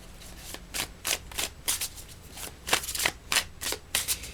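A tarot card deck being shuffled in quick riffles and slides, a dozen crisp papery bursts in irregular rhythm, close and fairly quiet with no talk.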